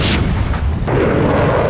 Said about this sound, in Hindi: सीरिया पर नॉन स्टॉप बमबारी जारी है।